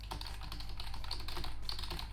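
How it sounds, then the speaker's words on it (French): Steady computer keyboard typing, a rapid run of soft key clicks at close range over a low background hum, no voices. "Vous allez également entendre ma frappe clavier."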